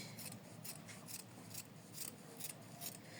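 Scissors snip through fabric to trim a sewn seam allowance, a steady series of close, crisp cuts repeating about every half second with a faint rasp between them and no talking.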